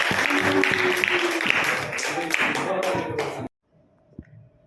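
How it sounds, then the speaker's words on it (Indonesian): An audience claps together at a teachers' dissemination session on positive culture, a dense, loud burst of applause lasting about three and a half seconds before cutting off abruptly, followed by near silence and a single faint knock. "tepuk tangan untuk kita semua"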